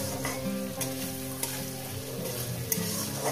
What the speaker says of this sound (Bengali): মিনিমাম 1 থেকে 2 মিনিট ভাজলে কাঁচা ফ্লেভারটা চলে যাবে